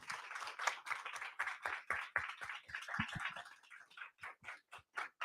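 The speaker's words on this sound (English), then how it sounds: "Please give her a warm round of applause." Applause from a small audience at a youth climate policy and advocacy event, scattered individual claps forming a moderate, uneven patter that thins into a few separate claps near the end.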